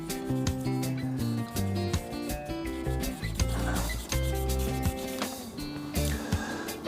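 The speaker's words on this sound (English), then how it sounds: "I'm going to just give it all a bit of a hand rub just to make sure that we're heading in the right direction here" Hand rubbing over a cast epoxy resin shaving brush handle gives a close, loud, rhythmic rasping in repeated strokes of about half a second, with short pauses between passes.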